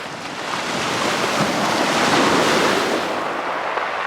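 Waves wash steadily onto a quiet, empty beach in Monaco on the French Riviera, with wind buffeting the microphone in a continuous broad roar that swells slightly midway and eases off.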